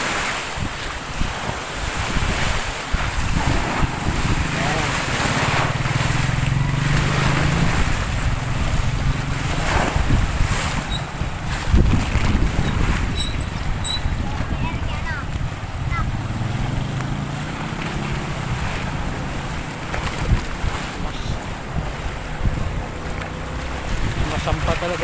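Choppy water slaps and splashes against a high seawall at a baywalk in Bay, Laguna, a continuous rushing wash with wind noise on the microphone and intermittent voices over it.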